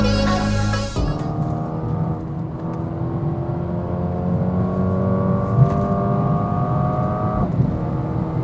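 Mercedes-AMG A35 engine while driving, a loud close drone that drops sharply after a gearshift and then climbs steadily in pitch under acceleration before easing off again.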